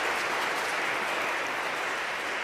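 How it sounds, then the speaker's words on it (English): An audience at a book prize event applauds, a dense, steady clapping close by and loud throughout the short stretch, with no voices over it. "I want to give you a round of applause."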